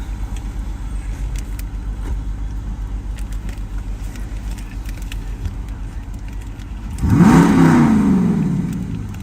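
A car idles steadily at close range with a low rumble, then near the end the engine is revved hard, rising sharply in pitch and loudness before slowly falling back.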